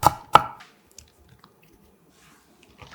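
Two sharp knife chops on a cutting board as red chili peppers are cut small for water kimchi, then near silence with a few faint clicks.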